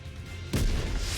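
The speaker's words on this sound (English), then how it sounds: "Final flame explosion!" A flame explosion from the video game Goddess of Victory: Nikke erupts halfway through as a sudden loud, deep boom and then holds on as a sustained roaring blast. Before it there is only a low rumbling bed.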